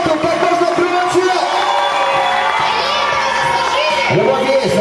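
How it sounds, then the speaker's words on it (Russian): Crowd cheering and shouting at a love-themed show contest finale and awards ceremony, a steady loud wall of voices with whoops, kept up throughout without a break. "Аплодисменты. Как можно громче."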